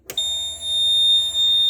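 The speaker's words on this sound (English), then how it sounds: "when that pump runs, the alarm goes off" A backup sump pump alarm in a rural home water system sounds during a pump test, a loud steady high-pitched electronic tone starting abruptly after a click and holding continuously.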